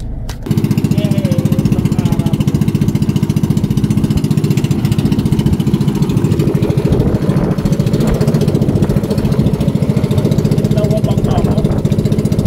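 A motorboat engine drones loud and steady throughout, a constant low rumble with no pauses.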